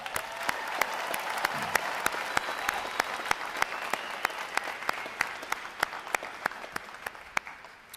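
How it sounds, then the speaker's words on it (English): Audience at a U.S. Navy recruit training bootcamp graduation applauds in a steady, moderately distant wash of clapping, with a few sharper claps punctuating it before it tapers off. "How about a round of applause for them, ladies and gentlemen?"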